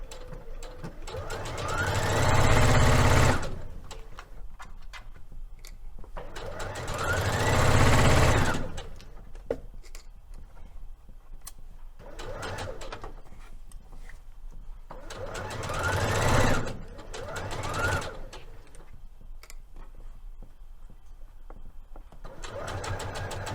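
A sewing machine back stitches at the start of a seam on Liberty London Florence fabric for a palazzo suit, running in several short bursts separated by pauses, close and fairly loud with no talk over it.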